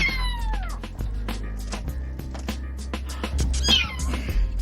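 A newborn kitten, just pulled from inside a wall beneath a kitchen sink, meows over and over in high, shrill, wavering cries, close and loud, against a low background rumble.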